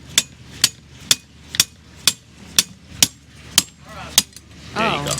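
A hammer strikes a fitting aboard a Leopard 45 catamaran again and again, nine or ten sharp, evenly spaced metallic blows. A voice comes in faintly near the end.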